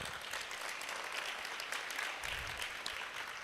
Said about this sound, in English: clap for your teacher.